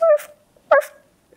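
A small poodle-style dog gives two short, high yips close by, each a quick bark with a brief whiny tail, separated by a short silence.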